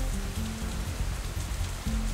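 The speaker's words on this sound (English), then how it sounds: "It's hardly even a drizzle now." A light drizzle of rain in the visual novel Katawa Shoujo makes a steady, even patter that runs continuously under low, sustained background music.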